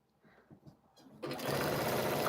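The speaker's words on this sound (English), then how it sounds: "now we are going to sew 2 of these small rectangles on both sides" A sewing machine stitches small fabric rectangles: a few faint handling noises at first, then the motor starts and runs as a steady, close, whirring hum to the end, with no one talking.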